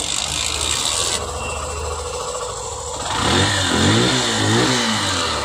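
A motorcycle whose self-start, horn and indicators have all failed is kick-started: a ratcheting kick-lever clatter, then the engine catches and settles into a close, steady idle with no talk.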